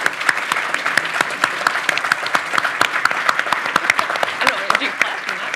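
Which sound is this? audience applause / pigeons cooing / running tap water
audience applause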